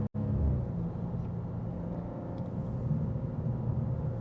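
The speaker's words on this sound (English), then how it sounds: "The pops and bangs are going off like crazy." A 2024 BMW M2 G87 with M Performance parts drives with a low, continuous exhaust rumble and burble heard from inside. A brief sharp dropout comes at the start and faint crackles follow.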